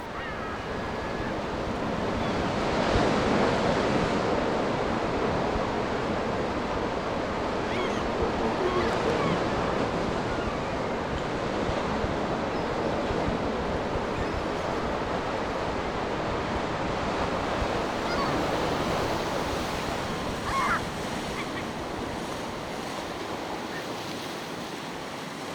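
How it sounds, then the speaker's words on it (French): Heavy ocean surf crashing steadily on the wild Finistère coast of Brittany, with strong westerly gusts roaring across the microphone; a loud, continuous wash of breaking waves and wind throughout, with no voices. "À voir parfois la colère des vagues, on comprend mieux pourquoi on parle ici de Finistère"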